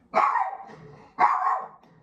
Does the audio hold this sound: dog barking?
yes